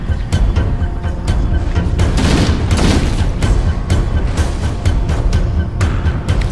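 Flood monsters bursting in a chain in Halo: Combat Evolved Anniversary, a rapid run of popping blasts and booms over a dense, noisy battle din.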